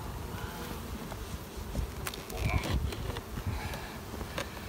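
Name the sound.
honey bees in a hive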